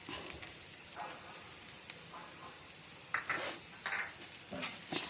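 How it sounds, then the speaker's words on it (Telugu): Fried taro and potato pieces with chili powder are stirred in a pan, giving soft scraping and clinking strokes in irregular bursts over a faint background sizzle, with no voices. "మొత్తం మంచిగా కలిసే వరకు ఇలాగా కలియపెడుతూ ఉందాం"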